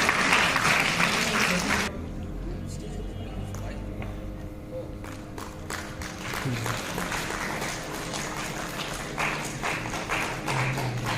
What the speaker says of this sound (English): Please clap for Miss Hazira Begum